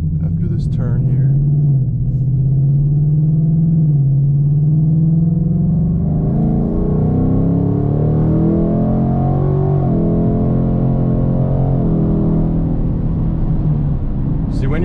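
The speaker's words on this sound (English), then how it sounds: "I have the active exhaust now. So I'm going to put it in track mode right here" Ford Mustang S650 with active exhaust in track mode and a 10-speed transmission accelerates hard. A deep, loud exhaust rumble climbs in pitch through quick upshifts, heard from inside the car.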